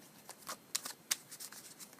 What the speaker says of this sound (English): I really like the way these cards shuffle.